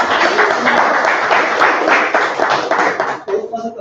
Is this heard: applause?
yes